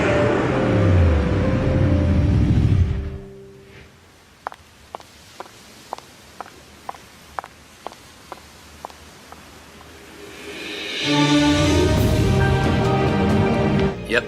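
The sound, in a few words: Porsche Panamera car accelerating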